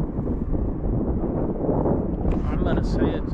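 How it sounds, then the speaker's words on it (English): Steady wind of about 15 mph from the southeast blows across open South Dakota pheasant country, a constant broadband rush buffeting the microphone throughout, with faint higher hiss toward the end. "I'm going to say it's a 15 mile an hour southeast wind"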